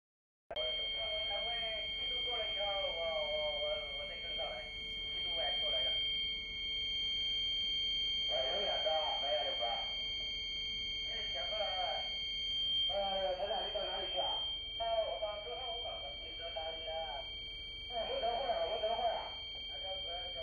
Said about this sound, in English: there is caution and gyro alarm, because we have loose connection on the 24 volts DC supply